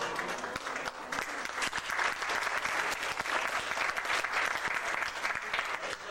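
Audience applause fills a banquet hall, dense steady clapping from many hands at moderate distance, sustained throughout with a faint murmur of voices underneath.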